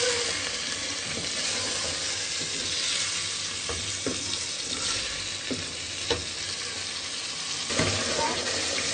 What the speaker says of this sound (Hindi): अच्छे तरीके से इसको मिक्स करेंगे।